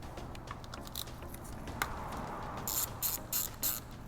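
Ratchet with an 8 mm socket working screws off an Aprilia RSV4 motorcycle, quick clicking pawl bursts in short runs, close and fairly quiet, with louder sharp clicking toward the end.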